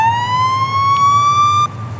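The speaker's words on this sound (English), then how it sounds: "Sirens." A video game police car siren wails, sweeping steadily upward in pitch, loud and close, with a low engine rumble beneath it, then cuts off near the end.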